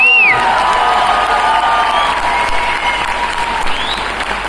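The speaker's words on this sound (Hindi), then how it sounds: "निखिल चंदन जी, एक बार जोरदार तालियां हो जाए।" Loud applause erupts from a large audience at an MI Lifestyle business event in Nagpur, with dense clapping and scattered cheers and whoops, starting strong and tapering slightly over several seconds.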